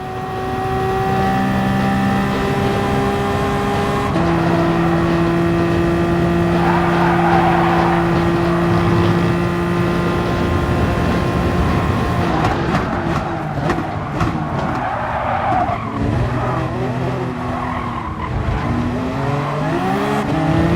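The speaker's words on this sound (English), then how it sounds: "the Toyota was able to pull hard on the acceleration" A Toyota race car in GT Sport accelerating hard, its engine note climbing steadily through the gears as a loud, close, continuous whine, with shifts and a brief tire scrub partway through.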